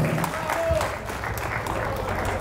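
A festival crowd applauds at the official rehearsals of the Festa dei Gigli in Crispano, a steady outdoor patter of clapping with crowd murmur and some voices underneath.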